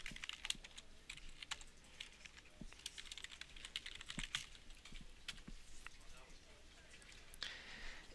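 An email address and password are typed on a computer keyboard: quiet, irregular bursts of close key clicks and taps with short pauses between runs.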